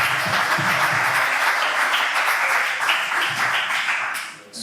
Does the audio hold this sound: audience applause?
yes